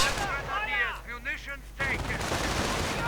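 Sniper rifle fire in a World War II shooter game, with sharp gunshot cracks and ringing echoes, a burst of rapid reports and wavering synthetic tones before a dense noisy wash takes over.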